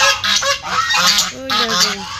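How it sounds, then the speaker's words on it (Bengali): Domestic geese at a rural resort in Ashulia, Savar, honking loudly and close in a quick series of nasal calls that overlap and repeat. "এগুলো হচ্ছে রাজহাঁস"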